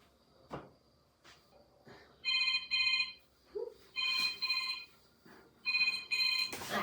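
A phone ringtone plays in repeated bright melodic bursts, about four rings with short gaps between them, fairly loud and close in a quiet late-night room.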